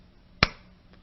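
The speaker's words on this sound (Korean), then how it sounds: "박수." A single sharp hand clap sounds once, close and crisp, standing alone against a quiet background.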